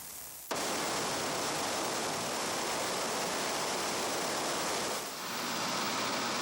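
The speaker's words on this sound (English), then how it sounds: "There certainly appears to be plenty of water as the Kentucky River roars over its first dam at Heidelberg." The Kentucky River roars over its first dam at Heidelberg, a broad, continuous rushing wash of falling water, loud and unbroken throughout.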